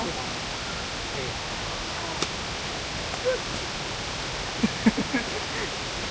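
The fifth tier of Krok E-Dok waterfall gives off a steady, soft broadband rush of falling water at a moderate distance, with a few faint clicks and brief sounds over it.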